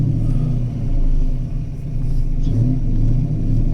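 A Ford Foxbody Mustang 5.0 on air ride cruising along, its engine giving a steady low rumble with gentle swells as the car is driven.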